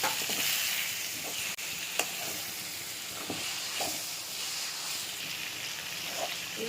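Marinated prawns frying in a pan, a soft continuous sizzle and hiss with a few light scrapes and taps of stirring, fairly quiet and steady throughout.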